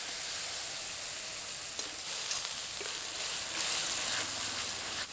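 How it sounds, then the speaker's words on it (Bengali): Ginger-garlic paste mixed with cumin, mustard and dried red chilli paste fries in a pan for a fish curry, giving a steady, even sizzle with no talking. "মশলাটা একটু ভাজা হয়ে এসেছে"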